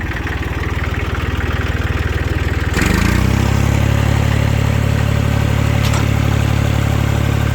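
A Hinomoto E2604 tractor with a front loader starts up, its engine settling into a loud, steady diesel idle with a low, even throb that runs alone to the end.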